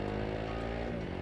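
A Royal Enfield Himalayan 450 motorcycle engine roars steadily and loud, a continuous deep drone with layered harmonics, its pitch shifting slightly near the end while riding through a quiet forest road.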